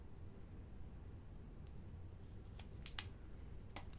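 Scissors trim a paper craft embellishment, giving a few faint, short snipping clicks over a quiet background hiss, with one slightly sharper cut near the end.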